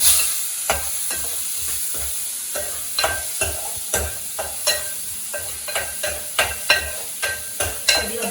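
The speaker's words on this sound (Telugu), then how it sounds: "ఇప్పుడు ఇదే ప్యాన్లో ఆనియన్, పచ్చిమిర్చి వేసేసుకుంటున్నాను" Onion and green chillies fry in a pan with a steady sizzle, broken by repeated sharp scrapes and taps of a stirring spoon at an irregular rhythm, close up with no voices.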